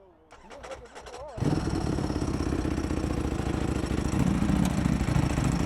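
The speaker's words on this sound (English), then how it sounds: "That dry clutch is louder." A V4R motorcycle with an upgraded dry clutch cranks and fires up after a brief voice, then settles into a loud, steady, clattery idle that carries on to the end.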